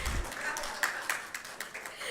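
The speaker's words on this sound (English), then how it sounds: "Please, let's give her a round of applause" A hall audience at a feminist gathering claps for a speaker, a fairly quiet, thinning patter of hands with a few distinct sharper claps, fading out as a voice begins to speak.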